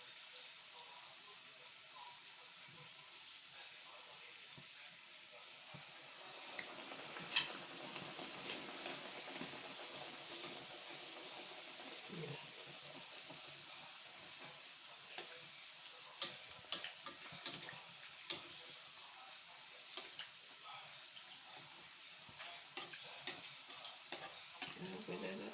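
Food fries in a large pan with a steady, close sizzle and crackle, broken by occasional stirring scrapes and small pops throughout.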